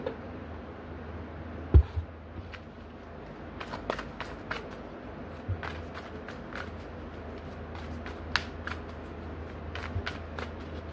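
Intermittent riffling and soft slaps of tarot cards being shuffled, close and quiet, over a low steady background hum.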